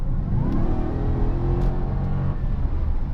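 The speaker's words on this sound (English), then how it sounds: "you mash the throttle and you're gone" Supercharged Dodge Challenger SRT-8 with Magnus supercharger and custom tuning, automatic, accelerating hard from inside the cabin: a loud, deep engine roar with rising whine, sustained throughout.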